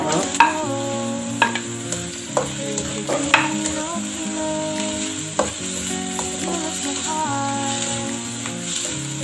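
Carrots being stirred and sautéed in a hot pan for Filipino sotanghon soup, with a steady close sizzle broken by repeated clanks and scrapes of the spoon against the pan.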